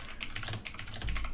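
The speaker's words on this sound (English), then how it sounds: "The typing is really distracting." Steady, rapid typing on a computer keyboard, close and clear, with dense clicking keystrokes and a few heavier key thumps, with no voices.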